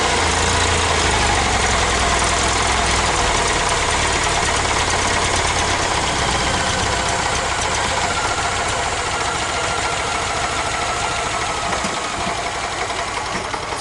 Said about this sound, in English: Back on the starter.